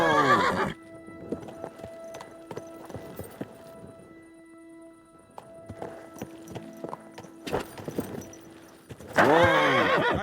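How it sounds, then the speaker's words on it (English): A horse in Kingdom Come: Deliverance II whinnies loudly at the start and again at the end, with clip-clopping hooves and game ambience between the calls. "I swear, if that horse of yours kicks me"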